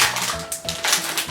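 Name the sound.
opening a Hello Kitty blind bag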